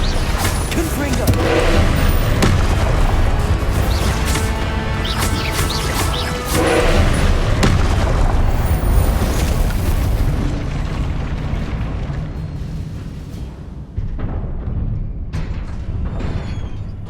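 Confringo blasting-spell explosions in a Harry Potter video game: repeated heavy booms and crashing bursts stacked over a rumbling, roaring bed, loud and dense for most of the stretch, then thinning and tailing off near the end.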